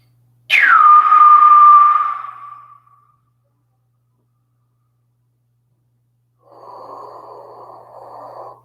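Slow, deep meditative breathing: a loud, drawn-out breath lasting about two seconds, a few seconds of silence, then a softer, airy breath starting as the next cycle begins.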